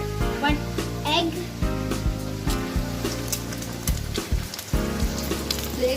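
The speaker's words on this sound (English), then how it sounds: "Keep a pan in the low flame and put medium flame and put some oil in it. And we want to put 1 egg." Oil heats in a pan over a medium flame for an egg, giving a steady loud sizzle and frying crackle throughout, with brief drops and clinks and a voice speaking over it.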